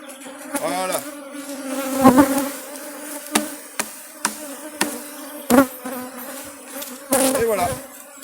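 Honeybees being shaken into a hive give off a steady, close buzzing, broken by several sharp knocks and taps from the hive work.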